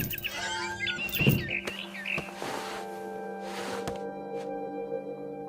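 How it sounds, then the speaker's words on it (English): A barn swallow chirps outside a window in the video game What Remains of Edith Finch, a cluster of quick, high chirps near the start, then fainter calls over a low, quiet hum. "Then I heard chirping outside my window. It was a barn swallow going back to her nest."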